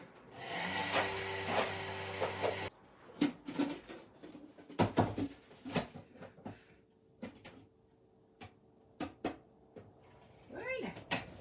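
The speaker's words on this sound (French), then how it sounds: "Donc je vais mixer 10 secondes à vitesse" Kitchen mixer at high speed 8 blitzing granulated sugar into powdered sugar: a loud whirring burst of a few seconds that cuts off abruptly, followed by clunks and handling knocks.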